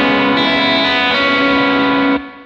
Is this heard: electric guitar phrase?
yes